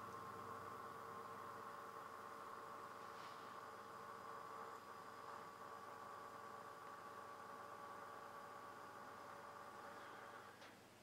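A steady, low electric motor hum with faint whirring overtones from an HO scale Bachmann model locomotive, decoder sound off, runs continuously and quietly, with no voices, easing slightly near the end.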